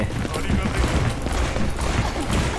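Rapid gunfire from the character Cassidy in the video game Overwatch 2, a dense continuous volley of shots through a busy game mix with voices talking over it.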